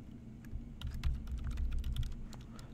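Steady, rapid clicking of a computer keyboard while Python code is typed, close and fairly quiet, an uneven run of keystrokes over a low background hum with no voices.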